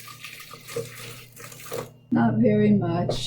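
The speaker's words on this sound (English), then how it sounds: "And then I'm pouring in a little bit of water" Water pours and splashes into a blender jar in a steady, close stream after a few seconds of soft speech and handling noise.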